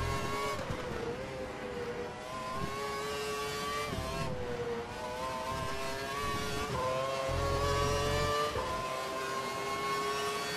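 Formula 1 race car engine in F1 2012 during a practice session, a high steady whine rising and falling through gear shifts, loud and close, with brief low rumbles, no voices.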